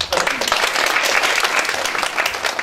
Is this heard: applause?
yes